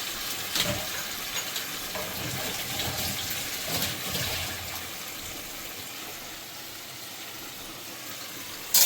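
Water poured into a pan of spiced potatoes, a steady close splashing and trickling that continues throughout the clip, with no talking.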